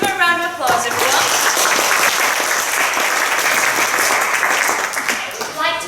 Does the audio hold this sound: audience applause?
yes